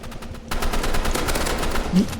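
Rapid automatic gunfire in the Roblox video game, a dense burst of sharp repeated shots close and loud through the whole moment.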